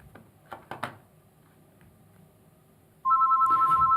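An incoming call rings in pascom phone software, a clean repeating electronic tone that starts abruptly after a few soft clicks and quiet room noise, then continues loud and even.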